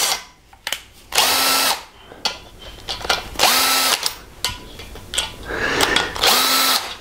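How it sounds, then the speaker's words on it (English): A power drill set to 4 foot-pounds tightens engine bearing cap bolts in short repeated bursts, with three loud whirring runs that climb and stop with a ratcheting clutch, plus clicks and clanks between them. "I'm going to use this drill here, and I've got it set on just 4 foot-pounds so that I don't over torque them."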